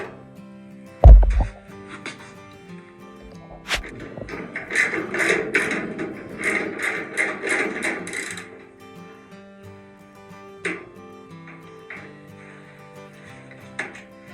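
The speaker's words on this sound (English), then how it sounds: "So now we're at a point where we can start unscrewing the entire screws." Screws being unscrewed from the heavy front frame holding a drum, with steady ratcheting, clicking mechanical turns running through most of the stretch and one sharp knock near the start.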